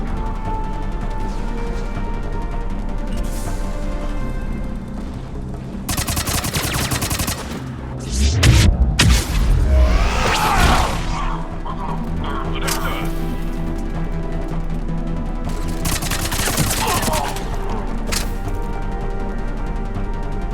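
Gunfire in the video game Mass Effect Andromeda: bursts of weapon fire and impacts crackle over a loud, steady battle soundscape and music, with a heavy crash in the middle.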